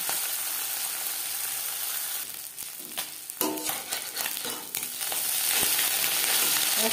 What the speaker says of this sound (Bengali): অল্প অল্প করে মাছ ভেজে নেব